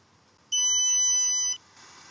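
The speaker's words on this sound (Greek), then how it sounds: "Σε περίπτωση που έχουμε διαρροή υγραερίου ή ανιχνευτεί καπνός, τότε χτυπάει ο αντίστοιχος αισθητήρας" A smart home gas-leak or smoke sensor sounds a single loud, steady electronic alarm tone lasting about a second, with quiet room noise before and after.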